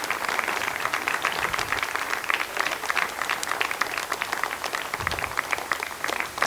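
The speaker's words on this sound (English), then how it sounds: "you can hear the applause" Applause breaks out in the mission control room at Kourou as BepiColombo separates from its Ariane 5 rocket on flight VA245, a steady, dense wash of clapping that holds at an even level throughout.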